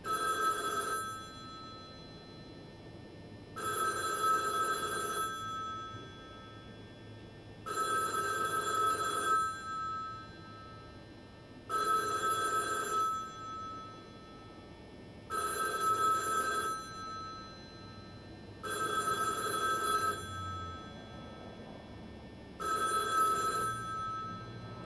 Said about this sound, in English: Am I the only one that can't not answer a phone?